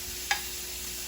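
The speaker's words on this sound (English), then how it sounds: "Oh, I love to hear that sizzle." Armour corned beef hash sizzles in a pot, a soft steady frying hiss with one faint tap of a utensil near the start; no voices.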